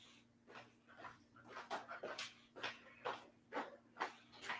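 A dog whimpering and panting close by, with soft rhythmic breaths and whines repeating about every half second under a faint steady hum.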